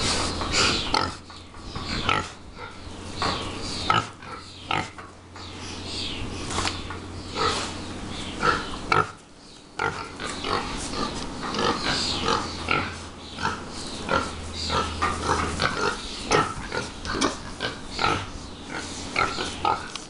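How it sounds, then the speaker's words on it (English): Little pigs running about and oinking, with repeated grunts, snorts and sniffing close by, jumbled and continuous over a steady low hum. "there were lots of little pigs running all over"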